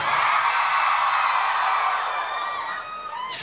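A crowd at a live banda concert in Mexico shouts, whoops and cheers loudly in a dense, sustained roar, with a few shrill yells rising above it near the end.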